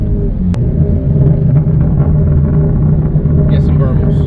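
A Ford Mustang EcoBoost with a burble tune sends a deep, close exhaust rumble with uneven crackling pulses. A voice talks over it throughout.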